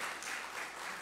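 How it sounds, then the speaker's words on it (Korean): A church congregation at an Easter Sunday service claps in welcome, producing a short, even spread of soft applause from many hands, heard faintly and without talk. "박수하겠습니다"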